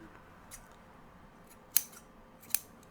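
Scissors snip yarn ends on the ear tufts of a crocheted squirrel worked in fur stitch, two crisp close cuts against a quiet room with faint handling noise between them.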